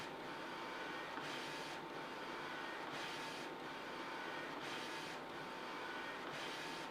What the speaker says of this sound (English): I believe they have to print quite often so the heads don't clog, but once they get printing, there they go